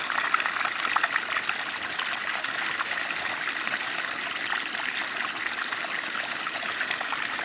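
Water runs steadily from a hose onto a lawn in a continuous, even rushing hiss with no pauses or talk.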